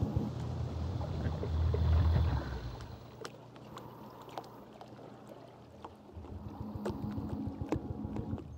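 A boat engine in the ARMA 3 video game runs as a low, steady rumble with water sloshing around the hull, swelling slightly then easing off, with scattered clicks and splashes; moderately faint throughout.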